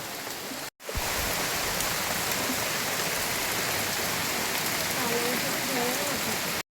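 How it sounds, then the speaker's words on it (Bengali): Steady rain pours down in a village, a dense, even hiss of drops on surfaces that fills the whole stretch after a brief silent gap at the start, with faint voices murmuring underneath. "এই যে মেঘটা একবার করে আস্তে আস্তে কাটছে, একবার করে বৃষ্টি এসছে"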